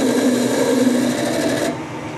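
Metal lathe cutting a chamfer on the end of a metal workpiece before threading, a close, steady buzzing whine that holds level and then cuts off sharply near the end.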